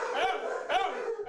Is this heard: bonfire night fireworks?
no